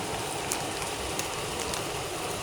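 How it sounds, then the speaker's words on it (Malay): Steady rain falls outside, a continuous dense patter with a few sharper drops standing out, heard on its own with no talking. "Sekarang tengah hujan."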